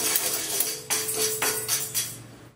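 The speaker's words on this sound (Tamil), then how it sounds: "ஃபர்ஸ்ட் கடலைப்பருப்பு இது ஒரு 30 செகண்ட் வறுத்து எடுத்துக்கலாம்" Chana dal dry-roasting in a kadai on a stove, a close rattling rustle of lentils stirred against the metal pan, with repeated scrapes of the spoon every half second or so.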